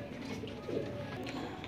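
A young male Teddy breeder pigeon kept for sale in Lahore gives a short, soft cooing call, close by and faint against light background noise.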